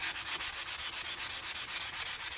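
Dry sandpaper, a wet-or-dry type, rubbed over a wooden decorative plate in quick back-and-forth strokes, a steady hissing scratch repeating about five times a second, close and alone.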